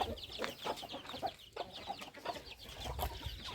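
Fighting chickens at a backyard poultry farm cluck in a steady run of short, choppy calls. The flock sounds moderately near, with overlapping birds and no talk.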